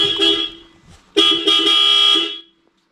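Aftermarket Hella horns fitted to a Datsun 280Z sound in loud, sustained honks: a short blast, a pause, then a longer piercing blare lasting over a second, close and dominant.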